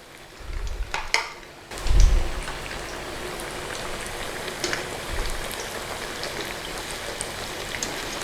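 Onion bhajis frying in hot oil give a steady, dense crackling sizzle throughout, with a couple of soft low thumps near the start and no talk.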